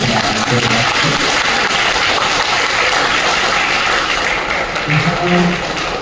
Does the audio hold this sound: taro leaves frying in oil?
no